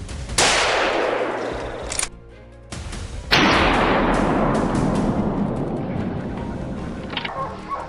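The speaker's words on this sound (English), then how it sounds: "gunfire erupts from other positions, signaling more victories for the team" Rifle gunshots during a wild boar hunt in a cold winter forest: two sharp, loud cracks about three seconds apart, each followed by a long rolling echo that fades slowly across the woods.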